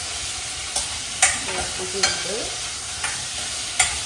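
Chili powder being stirred into sautéed tomato and onion in a pan, with a spoon scraping and clicking against the pan in several distinct strokes over a soft sizzle, close and clear, one brief spoken word.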